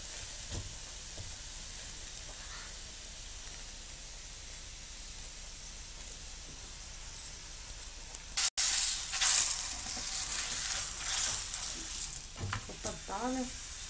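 A spinach and egg paratha fries on a pan over medium heat, with a continuous close sizzle and hiss that swells louder and busier about halfway through after a brief break.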